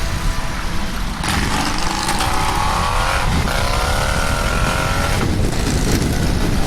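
Indian motorcycle ridden on an open road: a loud, steady engine drone with the rushing roar of wind, climbing in pitch as it accelerates through gears, heard close from the rider's seat.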